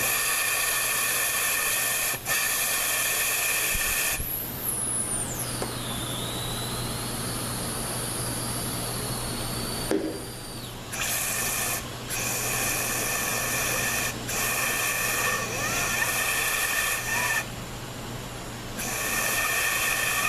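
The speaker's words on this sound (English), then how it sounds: "You hear all the air leaking?" Steady hiss of compressed air leaking from an air gun on a ZF 5HP24 transmission with no reverse when hot, continuous and fairly loud, with a few brief gaps and a whistling tone that bends partway through.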